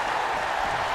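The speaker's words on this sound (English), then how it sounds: "The WWE Universe is showing their appreciation for the action they're seeing." Arena crowd applause in the WWE 2K22 wrestling video game, a brief, dense and even wash of clapping and cheering from a large audience that holds steady throughout.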